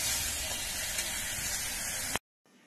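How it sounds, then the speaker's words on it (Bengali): Onion, potato, carrot and beetroot fry together in a pan, giving a dense, even hiss of sizzling that runs steadily, then cuts off abruptly to near silence. "আর এখানে একটু পেঁয়াজটা ভেজে নিয়ে তারপরে এখানে ওই কেটে রাখা আলু, গাজর আর বিট সব একসাথে দিয়ে ভেজে নিচ্ছি।"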